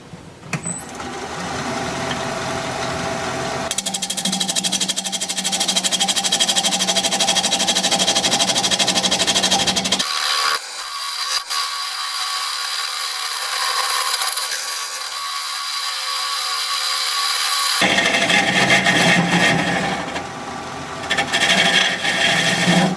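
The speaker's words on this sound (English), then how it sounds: "We're going to start by just squaring up this end. Well, we'll do both ends. For that I'll be using a parting tool." A wood lathe turns a log for a vase while a parting tool squares up the ends. Steady loud whirring and scraping continues throughout, with the cutting tone shifting in texture partway through. No one speaks.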